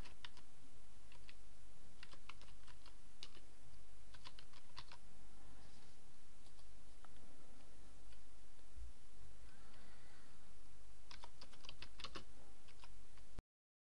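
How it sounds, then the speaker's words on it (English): Typing on a computer keyboard, bursts of quick, close keystrokes with short pauses between, over a low steady background hum. "let's type in a post"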